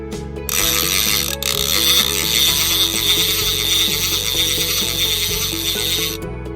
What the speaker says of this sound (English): then you hit the clicker switch. You hear the click.